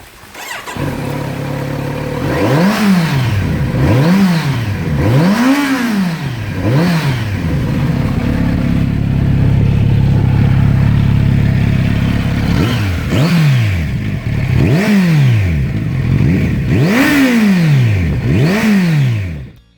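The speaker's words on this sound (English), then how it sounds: "It seems to me like the sound of a 4-cylinder Kawasaki, perhaps with a slightly deeper rumble than usual at low revs." A four-cylinder Kawasaki motorcycle engine revs repeatedly in sharp rising-and-falling blips, with a steady louder hold in the middle, close and loud with no talking.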